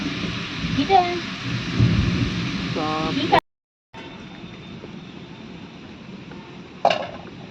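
Rain falls steadily on a village home during a storm, with a dull thunder rumble early on and a few clattering knocks nearby, then a brief dropout before the downpour continues.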